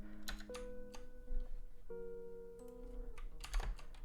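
Keys clatter on a computer keyboard in short bursts of typing, close and fairly quiet, with a faint tonal hum in the background and no talking.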